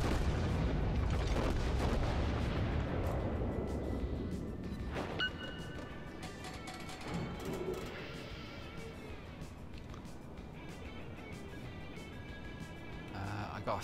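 USN battleship Montana main guns firing in World of Warships, a heavy booming salvo that rolls and fades, followed by quieter distant blasts and in-game effects, loud and alone without talk.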